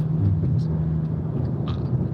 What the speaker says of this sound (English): I apologize for the road noise if anyone's getting frustrated by that.